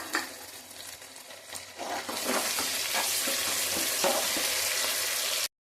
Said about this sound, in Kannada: ಇದಕ್ಕೆ ಇವಾಗ ನಾನು 2 ಕಟ್ ಮಾಡಿರೋ ಟೊಮೆಟೊ ಆ್ಯಡ್ ಮಾಡ್ತಾ ಇದ್ದೀನಿ.